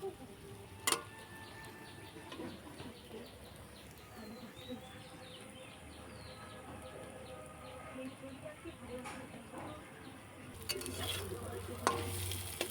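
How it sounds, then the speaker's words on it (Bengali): Continuous sizzle of eggs frying in a pan with frequent stirring and scraping, faint birds chirping in the background, louder clatter near the end. "এবার ডিমের ভুজিয়া করে ডিমের আশটা গন্ধটা যতক্ষণ না যায় ততক্ষণ একটু ভাজবো"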